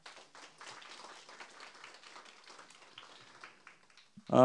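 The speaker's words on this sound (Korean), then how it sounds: "다시 한번 큰 박수를 부탁드립니다" Audience applause after a professor's presentation at the 2019 Jeju Forum peace and human rights session: steady, moderately soft clapping from a seated crowd throughout, ending as a voice begins speaking.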